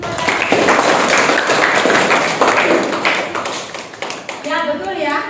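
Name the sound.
classroom applause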